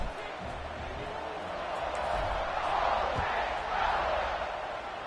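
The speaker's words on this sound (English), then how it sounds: "this crowd is buzzing after that last score" A football stadium crowd at an Ole Miss versus Florida game buzzes after a score, a broad steady roar with swelling cheers, fairly faint and distant.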